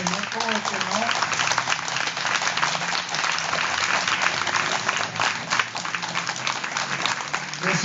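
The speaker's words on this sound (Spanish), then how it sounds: "Pues vamos a darle un aplauso al Señor." A church congregation applauds in sustained, dense clapping that fills the whole stretch, with voices calling out over and under the applause.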